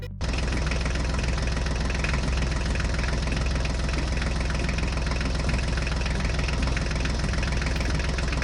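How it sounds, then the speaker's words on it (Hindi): A heavy tractor engine runs loud and continuous, a steady chugging knock that persists throughout. "चलो चलो गोकू, जल्दी से ट्रैक्टर गाड़ी पर बैठ जाओ, हम आगे चलते हैं।"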